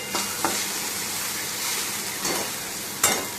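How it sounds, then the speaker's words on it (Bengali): Okra sizzles steadily in a pan, a constant crackling fry with a few sharper spatters and stirring scrapes breaking through. "এখানে ভেন্ডি ভাজা হচ্ছে"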